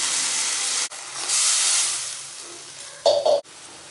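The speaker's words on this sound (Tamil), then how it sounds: "குழம்பு வந்து நல்லா கொதிக்க ஆரம்பிச்சிருச்சு." Egg curry gravy bubbles and hisses in a pan, a steady close sizzle with a short louder burst of spluttering near the end.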